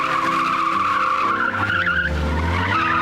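Car tyres squeal and skid through a stunt driver's handbrake turn, a loud sustained screech with engine roar rising underneath, close and continuous.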